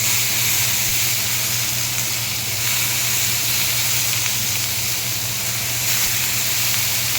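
Onion paste with tomato frying in a pan for fish kalia, a loud, even, continuous sizzle and hiss held close over a low steady hum, with no speech.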